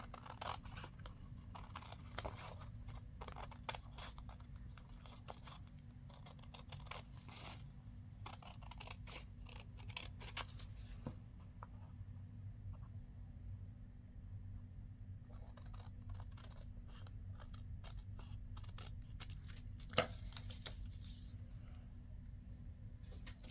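Scissors snipping through junk mail paper in a series of quick, irregular cuts, fairly close over a low steady background hum, with no talking.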